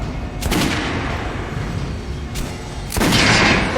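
Gunfire aimed at armored training dummies on a shooting range in Metro Last Light Redux, with sustained loud bursts and sharp onsets near 0.5, 2.4 and 3 seconds over a dense rumbling background, no talking.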